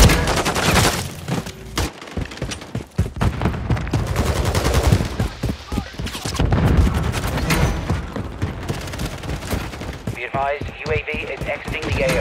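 Dense automatic gunfire and sharp shot bursts in Call of Duty MW3 online multiplayer, loud and close, rattling in rapid volleys with game voice announcements over the top.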